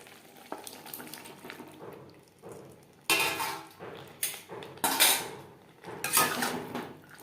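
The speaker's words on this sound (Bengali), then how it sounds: "মশলার সাথে ক্যাপসিকাম বেশ ভালো করে মিক্সড করে দেব।" A spatula stirs fried capsicum into spices and sour yogurt in a pan over a medium flame. Metal scrapes and clanks against the pan in bursts over a soft sizzle.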